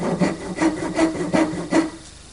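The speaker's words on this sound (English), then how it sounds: "I'm going to use my dovetail saw just to cut a slight recess" A dovetail saw cuts a slight recess into a square piece of wood stock, about 1 5/16 inch across, with five or six close, rhythmic rasping strokes in a steady back-and-forth pattern.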